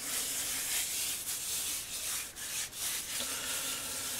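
Hands rubbing a dry cure into meat for pastrami, a close, soft, continuous scraping and brushing with slight rhythmic variation.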